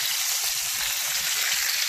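A bone-in leg of lamb fries in a pan, giving a loud, continuous close-up sizzle and crackle with a few soft low knocks underneath.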